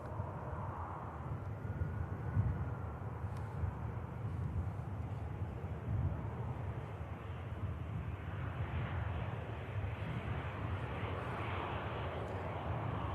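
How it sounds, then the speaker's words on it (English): A Brussels Airlines airliner lands on runway 23 right at Manchester Airport, a broad distant jet rumble and roar that holds steady throughout, muffled by wind on the microphone. "Brussels Airlines landing in on runway 23 right."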